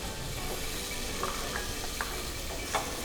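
Chopped garlic and vegetables frying in a pan, a steady dense sizzle with a few soft stirring scrapes rising briefly above the hiss, close and continuous with no voices.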